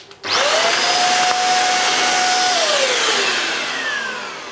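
A Hoover Jovis 550-watt corded handheld vacuum cleaner starts abruptly and runs with a loud, steady whine, its motor pitch falling slightly as it nears the end.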